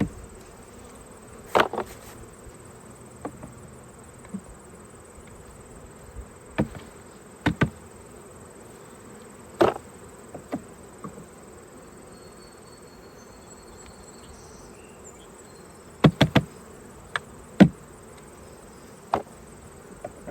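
A faint, steady honeybee drone hums in the background during a hive removal from a 200-year-old house, broken by scattered sharp clicks and knocks at irregular intervals.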